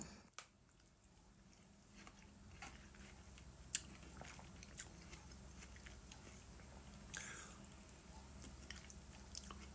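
Quiet, close chewing and biting of toast topped with feta cheese during a small taste test, with faint irregular crunches and squishy mouth sounds over a low room hum; no speech.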